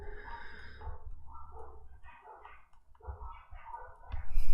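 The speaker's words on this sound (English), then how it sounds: "Oh, we have some dogs barking outside." Dogs barking outside, several short muffled barks and snorts at a moderate distance, scattered irregularly over a few seconds against low background rumble.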